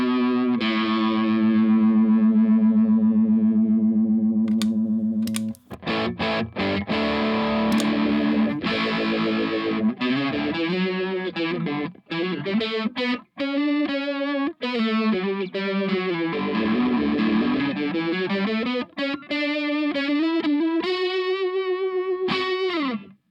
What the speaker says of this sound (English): It's like almost pseudo rotary there, which is pretty sick.